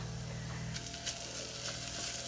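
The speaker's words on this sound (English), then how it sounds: "here's the vegetables I'm cooking in the bacon fat" Vegetables sizzle steadily in hot bacon fat in a pan, a constant close crackle with a few brief stirring sounds and no talking.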